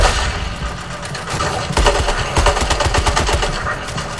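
Rapid automatic gunfire from Suicide Squad: Kill the Justice League, a dense burst of shots that swells after a brief lull into repeated sharp, loud cracks, with no voices.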